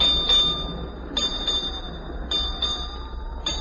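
A ship's bell strikes eight bells at noon, four spaced double-struck chimes, clear and ringing, over a steady low rumble of engine and sea.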